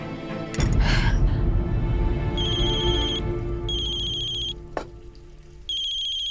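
A phone ringtone plays in repeated bursts of bright electronic tones, clear and fairly loud over a busy kitchen background of clatter and hum.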